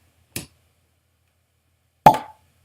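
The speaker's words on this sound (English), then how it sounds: "Take the top off that and pop the cork." A cork pops from a bottle of GlenDronach Cask Strength Batch 4 single malt Scotch whisky: a soft pull near the start, then a sharp, close hollow plop about two seconds later, with no talk.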